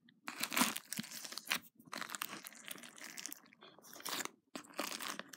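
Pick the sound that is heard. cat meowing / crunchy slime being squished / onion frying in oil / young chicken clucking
crunchy slime being squished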